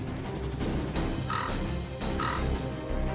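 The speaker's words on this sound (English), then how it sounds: "Can you hear the cries of those birds flapping their wings overhead?" Birds cry overhead in a scene from the video game Fate/Grand Order, heard as two short, harsh calls over a low droning game soundscape without talk.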